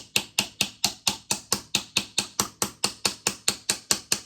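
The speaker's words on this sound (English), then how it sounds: "Hold it steady while I tap, tap, tap, and then I can hammer it in." Steady rhythmic tapping as a hammer strikes a nail into wood, about four crisp, evenly spaced knocks per second over several seconds, with no voices.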